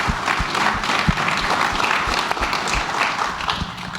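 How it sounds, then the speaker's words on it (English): A conference panel audience gives a hearty round of applause for panelist Cameron, a dense, continuous patter of many hands with occasional closer, heavier claps and no speech. "So huge round of applause for Cameron"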